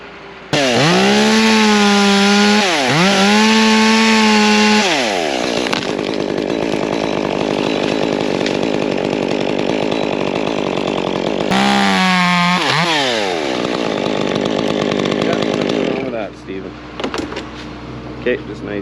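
A Stihl 661 chainsaw cuts through a massive cottonwood tree, its loud engine revving in repeated surges, then holding a long steady cutting drone, with another rev near the end before it drops off.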